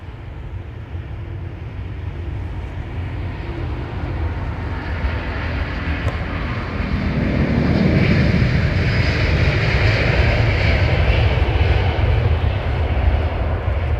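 Airbus A350 XWB jet engines roar through a takeoff roll, a loud, steady rumble that swells and grows harsher about halfway through as thrust builds, with no voices over it.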